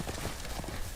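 Horse hooves clip-clop in a Game of Thrones video game. The beats come quickly and steadily in a short burst, with music or game sound close behind them.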